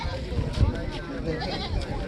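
Goat bleats mix with people talking nearby over a noisy outdoor background at a weekly village goat market in Punjab.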